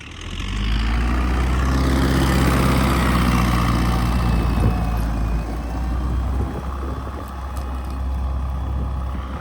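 Two tractors ploughing a field produce a loud, steady diesel engine drone close by, with a deep constant rumble and slow shifts in pitch as they work the ground.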